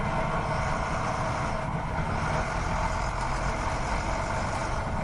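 Steady engine drone from a truck in a racing video game, a constant, dense rumble without pauses or gear changes, moderately loud and with no talk.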